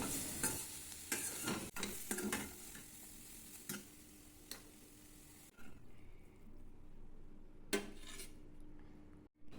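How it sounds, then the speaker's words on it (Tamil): Soya chunks (meal maker) sizzle in hot oil in a kadai while a metal spoon stirs and scrapes, steady frying hiss broken by repeated clinks and scrapes, close up with no talking. "மீல் மேக்கரை வறுத்துக்குங்க"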